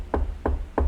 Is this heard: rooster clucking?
no